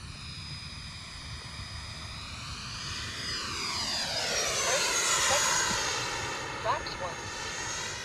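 A fixed-wing airplane's engines drone loudly and steadily as it comes in on a landing approach with the gear down. The pitch sweeps slowly downward partway through, and voices talk over it.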